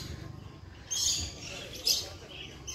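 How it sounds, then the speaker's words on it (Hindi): Birds at a farm house in Agartala, Tripura, give faint, high chirps in two brief bursts over a steady outdoor background hiss, somewhat distant. "आप लोग सुन सकते हो ये किलकारियां पक्षियों के,"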